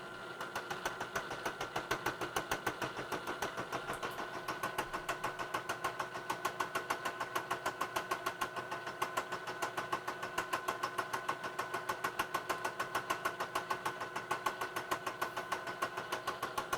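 Lathe taking a rough cut in steel under heavy load while turning parts for a clamp knurling tool, giving a steady mechanical drone with a fast, even knocking pulse running throughout, moderately loud and without talk.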